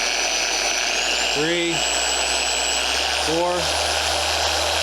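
A Griot's Garage 3-inch 700-watt polisher runs with a smooth, close whine whose pitch steps upward as the speed setting rises, and someone speaks briefly between the steps.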